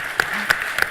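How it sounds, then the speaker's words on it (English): Audience applause at a scientific conference talk, a brief, steady patter of clapping with a few sharper individual claps standing out over about a second. "I think they deserve a big round of applause"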